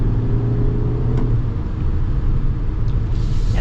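A 2025 Toyota Highlander Hybrid accelerates from the cabin, a steady low rumble and whir of engine and road noise, fairly loud and continuous, with no talking.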